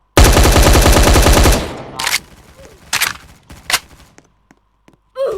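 Gunfire in a video game opens with a long, loud automatic burst, then a few sharp single shots ring out with quiet gaps between them.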